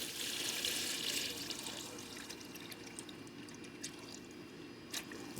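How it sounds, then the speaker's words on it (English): Concentrated vinegar being poured into a container in a knife-making shop, a close watery pour with light splashing that tapers off, followed by a few faint drips and clinks. "Should have enough vinegar to be able to fill that up."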